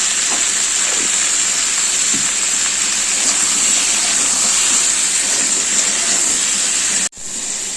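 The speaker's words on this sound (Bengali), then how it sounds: "নুন আর হলুদ দিয়ে ভালো করে পটলগুলো ভেজে নেব।" Pointed gourds (potol) frying in hot oil with salt and turmeric give off a steady, loud broadband sizzle with faint clinks, which cuts out abruptly near the end and then resumes.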